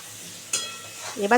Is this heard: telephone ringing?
no